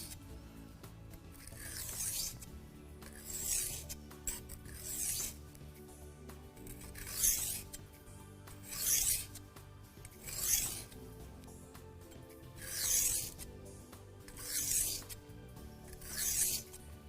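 Steel kitchen knife drawn across a whetstone in repeated rasping strokes, about eight bursts spaced roughly every second or two, close and moderately loud, with a low background hum and no talk.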